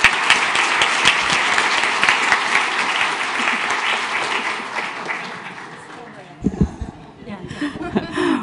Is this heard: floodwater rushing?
no